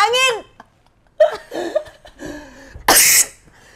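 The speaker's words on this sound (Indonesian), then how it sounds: "Lu bersin lagi barusan?" One person gives a sharp, breathy sneeze close to the microphone near the end, following some scattered voice sounds and laughter-like noises.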